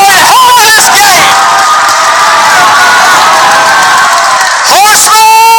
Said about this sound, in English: I want you to clap. I want you to cheer.